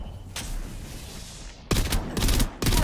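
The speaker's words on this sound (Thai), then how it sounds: "ข้างบนเขายิงกันอยู่" Automatic gunfire in a shootout in Apex Legends, heard as a short burst early on and then two loud, rapid volleys close by, with steady background game noise between them.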